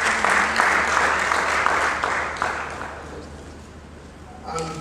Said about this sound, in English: Please clap for Mr.